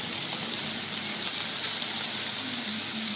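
Chicken pieces sizzling in hot oil in a pan, a steady, dense, bright hiss running loud and unbroken throughout, close by, with no talk.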